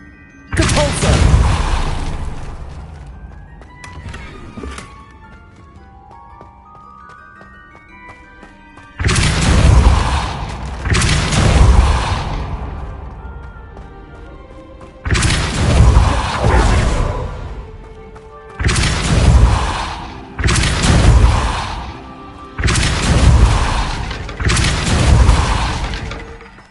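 Repeated Depulso spell casts in Hogwarts Legacy, a series of loud crashing, shattering bursts in quick pairs and clusters, each swelling and fading, with quiet gaps between.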